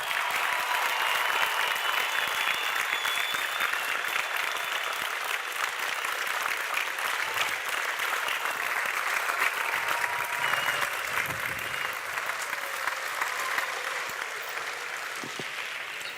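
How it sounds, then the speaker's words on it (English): A large graduation audience gives sustained applause, a dense, even roar of many clapping hands lasting throughout at steady loudness. "one big last roar of applause and appreciation."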